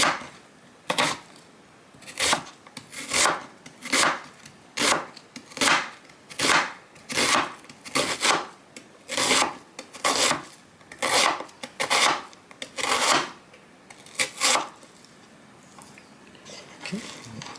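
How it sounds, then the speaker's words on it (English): A knife cuts a peeled white onion into wedges on a cutting board, with about fifteen crisp, evenly spaced chops that ring out loud and close. "And then proceed to cut wedges."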